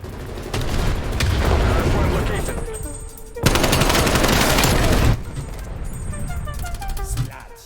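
Gun firing in fast continuous bursts, two long loud stretches of rapid shots separated by a short pause, with clinking and a voice in the mix.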